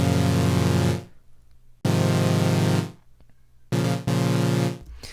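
Saw-wave synth chords from an Alchemy synthesizer ring out loud and bright in three sustained blasts, the last one broken by a brief gap, with near-silent pauses between them and no voices.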